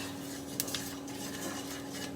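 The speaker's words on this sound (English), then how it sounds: "So I'm just frying off the seeds." Seeds frying in a pan for a beef madras, heard as a steady sizzling hiss with a couple of brief metallic clinks and scrapes of a utensil against the pan near the start.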